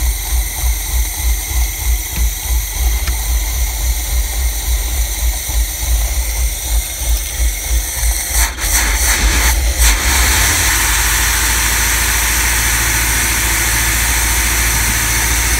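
An engine, just started, chugs with a rhythmic pulsing idle for about eight seconds, loud and close. It then briefly revs and settles into a smoother, steady running drone that continues to the end, with no talking.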